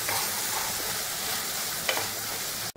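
Chopped onions sautéing in a pan with green chillies, a steady close sizzle with a couple of faint stirring scrapes, ending abruptly.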